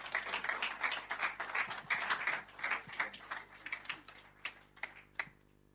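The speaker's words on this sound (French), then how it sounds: "On se réjouit, on va l'applaudir." A church congregation claps and applauds during a Christian celebration service, a dense burst of hand claps that thins into scattered claps and fades out by the end, with no talking.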